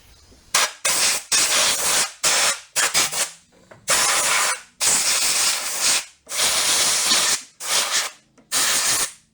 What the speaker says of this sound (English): Let me get the air gun and blow the crap off of that bowl before I take that down.